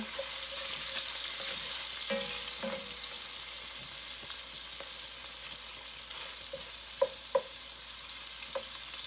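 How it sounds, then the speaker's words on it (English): Food being stirred in a sizzling pan, a steady frying hiss with a few sharp scraping clicks of the utensil near the end. "let's give it a little stir"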